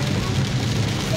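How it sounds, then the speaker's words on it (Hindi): Heavy monsoon downpour on the Aklera–Jhalawar road, a steady dense wash of rain heard close and loud without a break, with a low rumble underneath, as from inside a car moving slowly through it. "आप देख सकते हैं झमाझम बारिश फिलहाल हो रही है"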